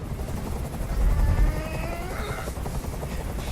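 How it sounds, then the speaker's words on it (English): Helicopter hovering overhead in a video game scene, a steady low rotor rumble and drone that swells briefly and continues throughout, with no talk. "Tell that helicopter to get out of here."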